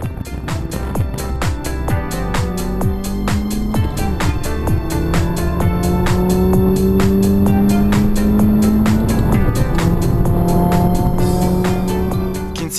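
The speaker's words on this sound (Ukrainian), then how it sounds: "А під скидання газу ось у цій дузі купе з вимкненою системою DSC азартно пускається у занос." A MINI Coupe with a 1.6 turbo four-cylinder drifts through a curve with DSC switched off, its engine droning loudly while tires squeal in long sustained wails, the noise close and continuous without speech.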